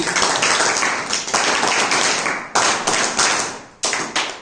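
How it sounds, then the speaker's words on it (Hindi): An audience at a Republic Day and Basant Panchami event claps in a rhythmic pattern, with sharp bursts of hands striking together in repeated waves, loud and close, with no talking. "अब आप करिए, पहले तालियां वही उसी प्रकार की।"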